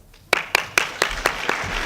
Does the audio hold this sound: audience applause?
yes